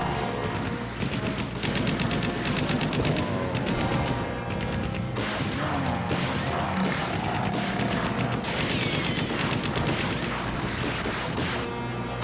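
Rapid bursts of gunfire in a monster film, sustained and loud for about twelve seconds, with volleys overlapping a dense, reverberant soundtrack.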